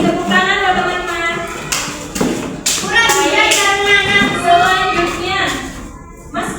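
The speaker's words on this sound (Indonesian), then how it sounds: "Tepuk tangan buat teman-teman." Classmates in a primary school classroom clap for their peers, with scattered hand claps and taps under children's voices and a teacher speaking close by.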